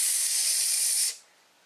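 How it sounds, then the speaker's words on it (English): A model steam locomotive venting steam from its pop-off valves: a loud, close, bright hiss for about a second that cuts off abruptly, leaving faint background noise. "it will shoot a massive cloud of steam into the air and make a very loud hissing"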